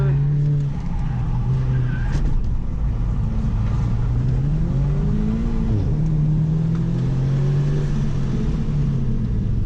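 An Audi S3 with new suspension modifications drives an autocross run, its engine droning steadily with rising and falling revs and brief tire squeal through the turns, loud and continuous throughout.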